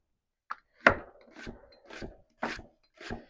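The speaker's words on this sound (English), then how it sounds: "I'm going to start by dicing up an onion." A knife dices an onion on a cutting board: five distinct close chops at uneven intervals, each a crisp thud with a short scrape, in an otherwise quiet kitchen.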